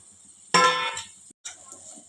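A lid clangs down onto a pan of ridge gourd fry on a low flame: one sharp, ringing metallic hit close by, then a quieter clink a moment later.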